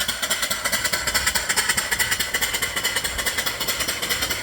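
A live steam mill engine with a 3-inch bore and 4-inch stroke, fed from a 20-inch boiler, runs smoothly with a steady, even chuffing rhythm, close up and alone without talk.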